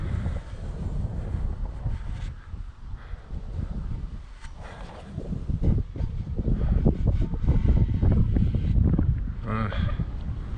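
Wind blowing hard outdoors by a house chimney being fitted with high ventilation, a continuous rushing, buffeting roar with gusts close to the microphone throughout.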